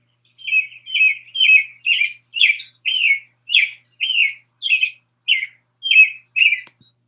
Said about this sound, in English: Red-breasted robin is our state bird.